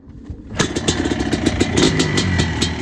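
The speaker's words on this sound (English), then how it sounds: "But yeah, give her a kick." A Yamaha Blaster ATV engine is kick-started and fires right up after a short silence, settling into a loud, close, buzzy two-stroke idle that runs steadily on its own.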